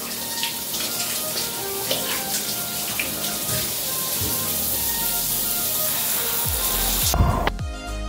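Steady running water pours over two water-resistant phones, an LG V60 5G and a Samsung Galaxy S20 Ultra 5G, with a continuous close splashing hiss that ends abruptly.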